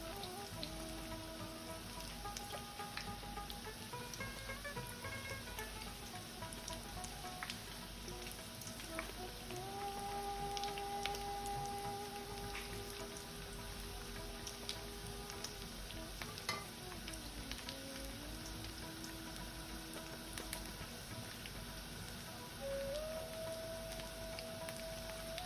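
Potato chops (aloo chop) fry in oil in a pan and are turned over from one side to the other, giving a steady, dense sizzle with faint stirring and utensil sounds throughout.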